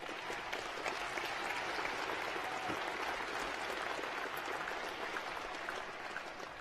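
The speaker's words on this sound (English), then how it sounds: "So please give yourself a round of applause." Graduates and families applaud at a university graduation ceremony for the School of Environment and Life Sciences, a broad, sustained crowd clapping that fills the hall evenly and fades slightly toward the end.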